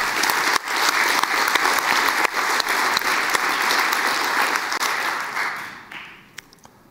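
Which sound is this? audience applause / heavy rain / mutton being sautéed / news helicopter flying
audience applause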